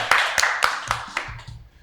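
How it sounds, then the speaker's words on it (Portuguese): A few people clapping briefly at a Catholic podcast recording, about half a dozen distinct sharp claps in an uneven rhythm, close and fairly quiet, then fading out. "Uma salva de palmas"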